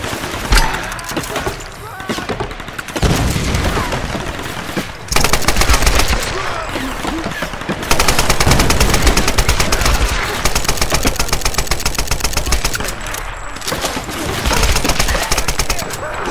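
Bursts of automatic machine gun fire in the Tomb Raider video game, loud and nearly continuous for about sixteen seconds, with dense rattling volleys and brief lulls, and someone talking over the shooting.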